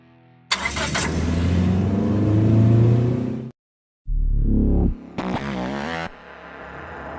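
A 2017 Ford Raptor pickup with a 3.5-liter twin-turbocharged V6 roars loudly as it accelerates during off-road driving. After a brief silence there are two more short, sharp revs.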